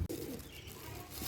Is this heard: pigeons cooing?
yes